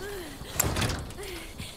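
A short rattling thud of a locked door handle or latch that doesn't give, one dull clunk over a low game-like ambient hum with faint tonal sweeps, from Resident Evil 4 Remake.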